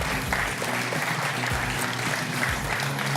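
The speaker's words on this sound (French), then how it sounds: "on peut les applaudir bien fort" An audience applauds the candidates at a televised regional special, a loud, continuous rush of clapping from a nearby crowd with low hum underneath, steady throughout.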